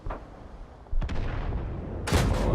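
Tank cannon shots in World of Tanks, fired by an AMX 12t at a VK: sharp loud blasts, with a faint crack first, then a heavy report near one second and another at two seconds, over rumbling battle noise.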